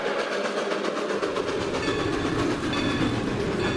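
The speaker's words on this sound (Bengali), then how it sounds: "ট্রেনের জানলার পাশে বসেছে রবি।" A train running on its rails serves as a sound effect in an animated horror story, a continuous rumbling clatter with a rhythmic clickety-clack that holds steady throughout.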